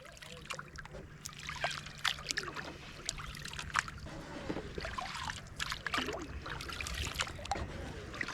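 Kayak paddle strokes dip and splash along the Goulburn River, with soft trickling water and irregular drips recurring through a steady low, moderately quiet background of flowing water.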